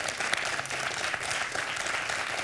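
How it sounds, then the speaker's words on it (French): A quiz-show studio audience applauds steadily, a dense wash of clapping filling the space at an even level throughout, with no voices on top. "Et j'entends les applaudissements"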